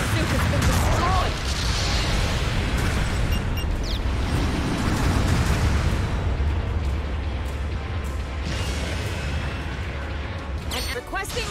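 A mobile suit blowing up in Gundam Battle Operation 2 during a 6v6 match on a tropical desert map: loud, rumbling booms and blasts layered over continuous battle noise, with spoken game callouts over them.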